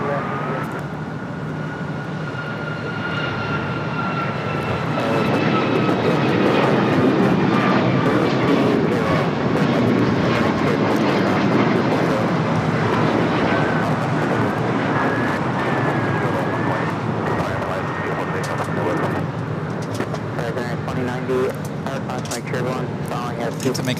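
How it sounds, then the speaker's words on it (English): United flight 2679 from Newark touching down at LAX, a loud jet with whining engine tones that swell and gradually shift pitch, then settle into a sustained rumble as it rolls out. "About to touch down. It's United 2679 from Newark."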